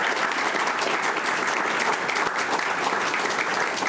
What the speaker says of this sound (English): How about a big round of applause for everybody here?